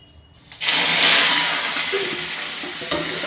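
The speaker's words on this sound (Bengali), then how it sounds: "সর্ষে সর্ষে আর শুকনো লঙ্কা ফোড়ন দিলাম" Mustard seeds and dried red chillies crackle and sizzle in hot oil for a tempering, a loud continuous frying hiss that jumps up after a brief quiet start and holds steady, with a sharp pop near the end.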